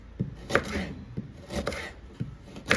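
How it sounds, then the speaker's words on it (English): A knife chops carrots on a cutting board in a kitchen while curry egg is prepared, giving a steady series of close, sharp cuts at a moderate pace with no talking. "I'm using my carrots. Don't want to cut them too thick,"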